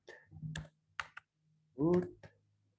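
A few scattered keystrokes on a computer keyboard as a root password is entered at a Linux TTY2 console login. The taps are close and crisp, and a short burst of voice comes in partway through.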